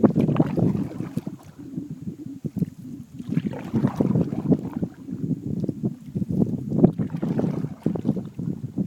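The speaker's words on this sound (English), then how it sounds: "Something very charming about the sound of the paddle pulling water, and then the drip, drip, drip as the paddle comes back forward" A canoe paddle pulls through water in repeated strokes, each followed by dripping as the blade swings forward, close and moderate in loudness, with wind noise in the background.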